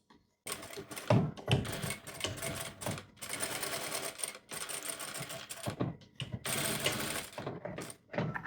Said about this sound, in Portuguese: Nós vamos fazer essa costura com todos os vieses, até unir todas as faixas.